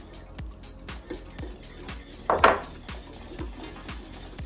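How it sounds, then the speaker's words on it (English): A utensil scrapes and taps rhythmically in a pan while flour is stirred into a sausage gravy roux, with steady repeated clinks and one louder scraping clatter midway. "all we're gonna do is slowly add in our flour, and we're just gonna mix this up"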